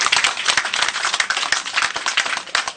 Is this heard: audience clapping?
yes